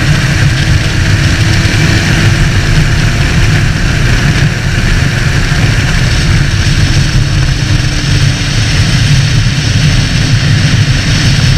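A Honda CB650F motorcycle's engine drones steadily while riding, a loud continuous low hum mixed with wind rush and no speech.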